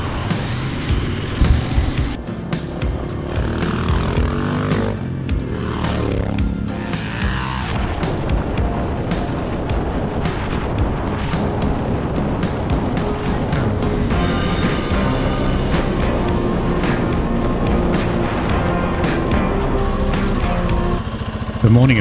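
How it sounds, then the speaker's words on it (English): A Suzuki DR650 adventure motorcycle churns through mud puddles on a bush track, its engine loud and rough under bursts of splashing and wind buffeting, with faint voices now and then. "here's Aaron on the mighty DR650, finding every bit of mud that he could"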